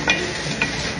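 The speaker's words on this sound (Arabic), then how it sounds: "هحط بص الباميه من الفريزر اهي متخزنه" Frozen okra drops into a pan of simmering tomato sauce, giving a close, steady sizzle with a couple of soft stirring clicks.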